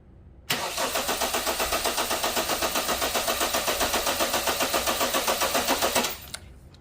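A car engine cranks with a steady rapid rhythmic chugging of the starter for about five and a half seconds during a starting system voltage drop test, loud and alone, then stops abruptly.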